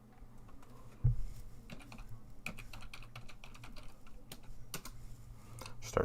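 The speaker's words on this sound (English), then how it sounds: "Start slamming my keyboard." Rapid, uneven typing on a computer keyboard, close and steady across the whole stretch with sharper clustered keystrokes, a louder hard strike near the start and another near the end, with no voices.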